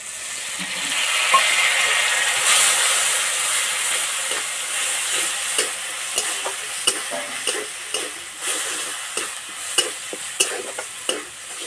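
Ground pointed gourd seeds stirred into onions frying in a pan, giving a steady bright sizzle and hiss with repeated scraping clicks from stirring that grow more frequent toward the end, close and alone.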